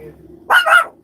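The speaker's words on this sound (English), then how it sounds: "I knew it was going to start barking." A dog indoors in a tiny house on wheels gives a quick double bark, two close, loud yips in rapid succession following a faint murmur.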